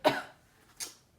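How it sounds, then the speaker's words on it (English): Two separate coughs, a strong close one at the start and a lighter, breathier one about three-quarters of a second later, with silence between. "now I want you to give me a good cough like this"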